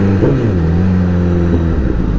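A 1000RR motorcycle accelerates on a snowy road, its engine rising in pitch in a loud, close roar that levels off and then climbs again.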